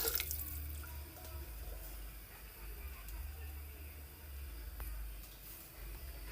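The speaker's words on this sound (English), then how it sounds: "I'm gonna add some water to pressure the cow skin." Water is poured into a cooking pot of cow skin before pressure cooking, giving a soft, continuous splashing hiss that runs throughout at low level over a faint background hum.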